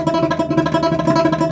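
A guitar plays tremolo picking, a single note struck over and over at high speed, with a steady, rapid, even pulse of close, loud attacks throughout.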